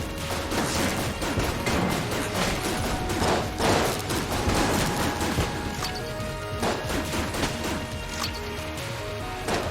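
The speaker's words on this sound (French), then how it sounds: "Allez, ça tire dans tous les sens," Constant dense gunfire and bursting impacts from the roguelike shooter game Enter the Gungeon, a loud, busy barrage of shots and crashes running without a break, with no talk.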